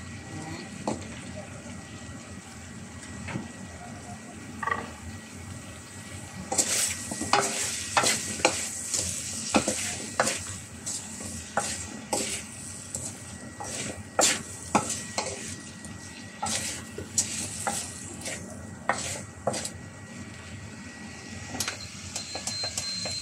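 Chayote and carrots are stir-fried in a pan for chicken chop suey, with a steady sizzle under repeated scraping and clattering stirs of a utensil against the pan.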